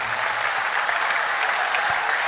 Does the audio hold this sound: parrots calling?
no